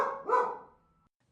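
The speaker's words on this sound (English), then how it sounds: "Crab, my dog." One dog bark, a short double-pulsed woof that rings out and fades, then silence; it is heard in a Shakespeare audiobook of Two Gentlemen of Verona.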